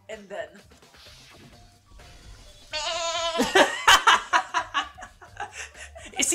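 A person mimics screaming goats, letting out loud, strained bleating shrieks in quick bursts, mixed with laughter and chatter from several people.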